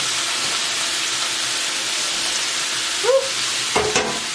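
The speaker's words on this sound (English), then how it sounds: "So I'm going to add them to this pot now." Steamed vegetables tipped into a pot of chicken vegetable lo mein set off a steady, close sizzling hiss, with a brief stir near the end and a short vocal exclamation.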